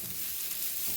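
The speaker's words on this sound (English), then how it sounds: "First fry the coconut, and then in that only we will add our other masala and fry" Grated coconut and masala frying in a hot pan for a Goan suran tonak curry, a dense, even sizzle that hisses steadily and close by, with no voices.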